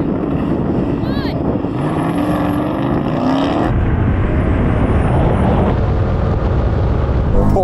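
A Porsche 718 Cayman and an Audi TT RS launch in a drag race with loud, close engine roar and rising revs through the gears, and voices talk over the noise.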